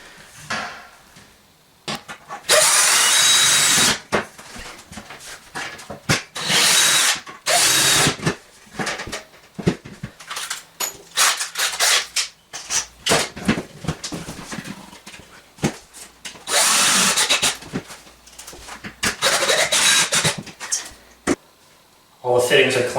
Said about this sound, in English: Give myself some holes through the metal first, so I'm not using self-drilling screws.